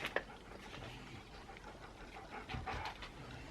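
Dogs pant quietly nearby while waiting for Purina Adventuros wild venison strips, soft rapid breathing with a few faint whimpers and rustles in a calm indoor room.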